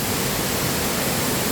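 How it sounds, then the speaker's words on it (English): Small waterfall at Bird Paradise in Mandai, Singapore, a steady broadband rush of falling water that stays even and fairly close throughout, with no voices. "Ah, waterfall. The small one."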